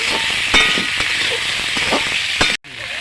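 Salted potatoes sizzling and frying in a pan for a Bengali bata fish curry, a loud steady hiss broken by several sharp clinks of a utensil stirring against the pan, with a brief cutout near the end.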